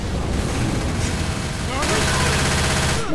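Gunfire in Left 4 Dead 2 rattles as continuous loud automatic bursts, dense and close, while players talk over it.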